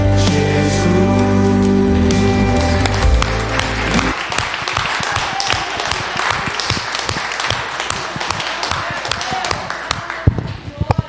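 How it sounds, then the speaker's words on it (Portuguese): A church congregation claps together after music stops abruptly, with dense scattered applause continuing steadily to the end, fairly loud and close. "Você pode aplaudir a Jesus"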